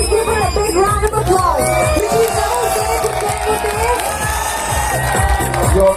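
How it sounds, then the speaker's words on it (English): A pageant crowd greets the newly crowned winner with cheering, whoops and clapping, loud, continuous and close, with shouting voices and a pulsing music beat running underneath. "Please give her a big round of applause."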